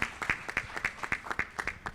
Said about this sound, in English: Give a round of applause for Marley, please.